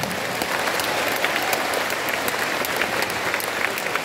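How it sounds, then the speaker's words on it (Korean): A large audience at a church federation rally in Jangchung Arena claps steadily, a dense, even wash of applause that holds at full strength throughout with no voices over it. "다시 한번 박수 한번 쳐주세요."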